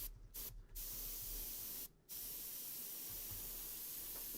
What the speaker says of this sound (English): So I'm going to spray from what we would call the 2 o'clock position to get